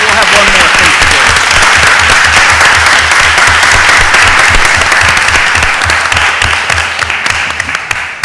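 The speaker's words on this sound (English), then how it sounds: "if we could just give him one more round of applause" A crowd applauds loudly and steadily at a city council committee meeting, a dense roar of clapping that gradually begins to thin out toward the end.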